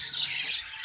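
A budgerigar squawks inside its cage, one shrill burst of bird call lasting under a second, close and fairly loud, with no talk.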